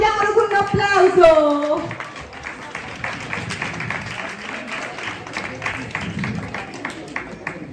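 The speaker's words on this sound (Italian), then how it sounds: "Accogliamolo con un applauso." Applause from a live stage-show audience welcoming a guest, rising after a brief spoken introduction and continuing as a steady, dense patter of many hands with some voices mixed in.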